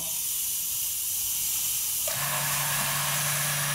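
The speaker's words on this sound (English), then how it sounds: "we like to see this end of the pump particularly given a good blowdown" Compressed air blowing down a vacuum pump, a loud continuous hiss that shifts abruptly partway through as the air stream changes, joined by a steady motor hum.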